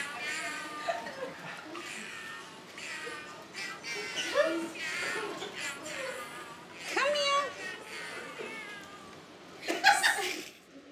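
Two cats meow and caterwaul at a mock cat wedding, giving several short, mid-loud cries, the sharpest near the end, while people talk around them.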